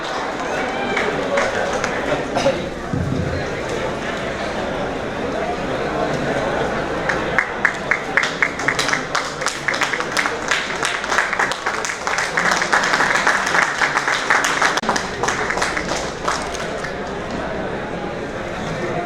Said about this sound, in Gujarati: એમને તાળીઓથી વધાવો.